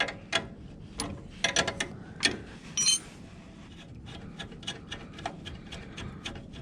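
A 14 mm jam nut on the tie rod of a John Deere L120 lawn tractor is broken loose with a wrench, giving scattered metallic clicks and ratcheting ticks close by, louder early and then lighter.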